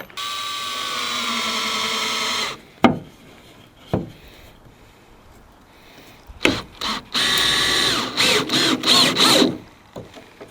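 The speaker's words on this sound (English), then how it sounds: "You're gonna screw through the 3-foot piece into the end grain of the 2-foot piece." A power drill drives screws through a 3-foot board into the end grain of a 2-foot wood piece, loud close whirring bursts that bog down as each screw seats, with clunks and handling knocks between runs.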